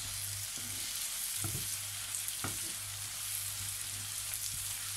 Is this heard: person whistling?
no